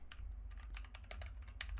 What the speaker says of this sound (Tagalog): magta-typing test ulit tayo at mouse clicks